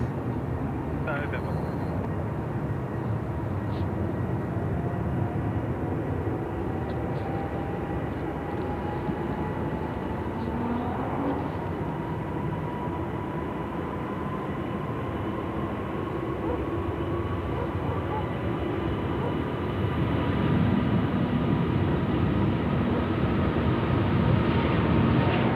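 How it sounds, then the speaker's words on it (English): An Airbus A380 takes its takeoff roll on runway 34 left at Sydney Airport, a sustained low engine roar with a slowly rising whine, heard from a distance throughout and swelling louder near the end. "Now it's A380 time now, about to roll here on, is rolling here on runway 34 left"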